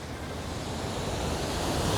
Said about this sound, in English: listening to the waves crash, the seagulls